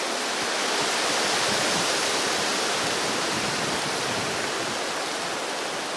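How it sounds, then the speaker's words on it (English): Strong wind roars steadily outdoors on a hike, a dense, unbroken rush of noise buffeting close by without letup. "I didn't know it was going to be so windy."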